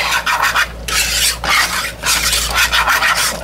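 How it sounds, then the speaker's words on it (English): Homemade ketchup ingredients being whisked in a pot, a steady rasping scrape in repeated strokes with brief pauses, close and fairly loud with no voices. "So I'm mixing all of this in."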